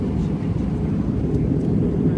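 Inside the cabin of a Lufthansa Airbus A320-211 in flight from London Heathrow to Frankfurt, a deep, steady engine and airflow rumble drones continuously and fairly loudly.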